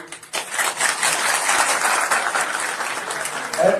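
Crowd at a political party gathering applauding, clapping starts abruptly and holds steady and dense for several seconds, fairly close, with a brief voice near the end.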